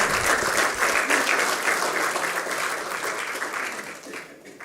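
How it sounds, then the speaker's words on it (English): An audience at a corporate full-year financial results event breaks into loud, sustained applause, a dense wash of clapping that holds steady throughout and tapers slightly at the end. "A round of applause for the group chairman."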